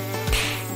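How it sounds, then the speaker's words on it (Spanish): A mosquito whines past in a single brief buzzing swoop, close and clear against a steady background hum, with no talking. "¡Tonto mosquito!"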